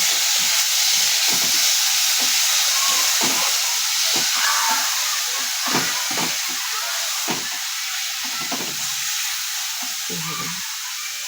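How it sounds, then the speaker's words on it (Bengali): Paste of ground onion, ginger and garlic sizzles loudly and steadily in a hot pan, with irregular soft scrapes and knocks as it is stirred throughout. "তারপরে দিয়ে দিলাম ওই বাটা পেঁয়াজ আদা রসুনটা একটু নাড়াচাড়া করব"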